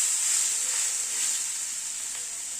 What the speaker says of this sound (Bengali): গ্যাসের ফ্লেমটাকে মিডিয়ামে রেখে সবকিছুকে ভেজে নিচ্ছি